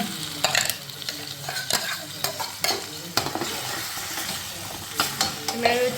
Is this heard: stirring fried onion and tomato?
yes